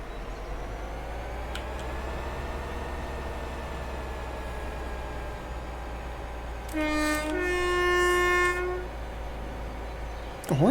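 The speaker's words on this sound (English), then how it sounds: "The horn doesn't sound bad." A diesel locomotive horn in the train simulator Train Sim World 4 blares once for about two seconds, loud and chord-like over a steady low engine rumble, with faint tones drifting beforehand.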